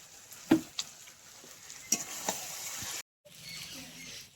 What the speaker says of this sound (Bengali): আরও 10 মিনিট ভাজবো।